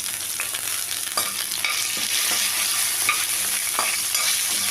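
Fennel seeds and green chillies fry in hot oil for a crab masala, giving a steady, bright sizzle with a few spatula scrapes and taps close by.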